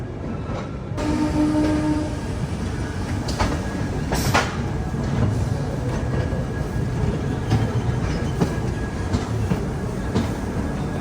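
A Duronto Express pulls out of Chennai Central, its low rolling rumble steady throughout, with a few sharp clanks and knocks from the coaches standing out above the din.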